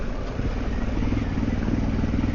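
A motorcycle rumbles steadily along the rough, potholed Old Mine Road in New Jersey, with a constant loud engine drone and wind noise and no clear changes in pace.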